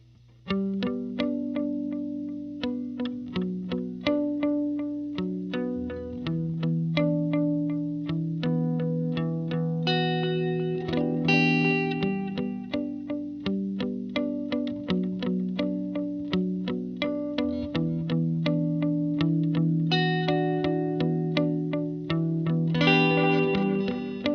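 Electric guitar runs through a tape-style delay pedal in mode 5 on a pedalboard, a continuous stream of picked notes with echoing repeats and a chorused, slightly distorted shimmer, steady and loud for the whole stretch.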